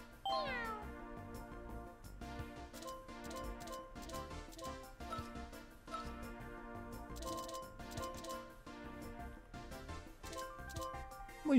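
Cat meows from the Bell power-up in the Mario Kart 8 Deluxe racing game sound over busy, continuous game music and effects, moderately quiet throughout the race.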